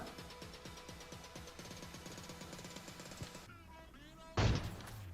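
Rapid gunfire in an online shooter video game, a fast rhythmic string of shots for several seconds, then a brief pause and one heavy, louder blast near the end, with no talk over it.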